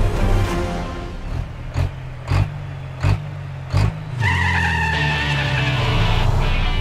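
A Volvo Iron Knight high-performance racing truck roars through rapid gear changes, its deep engine note broken by several sharp pauses before it settles into a steady, loud, rising drone with whining harmonics.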